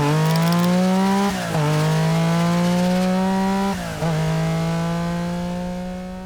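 A 2021 Porsche 718 Boxster GTS 4.0 mid-engine roadster drives along with a loud, steady engine drone that rises in pitch through the gears, with two brief dips at the shifts.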